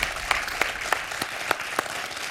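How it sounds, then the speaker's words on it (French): Studio audience applause on a TV quiz show, Questions pour un Super Champion, a continuous round of clapping with a few sharp, prominent claps punctuating it at close range. "J'entends des applaudissements jusque dans les coulisses"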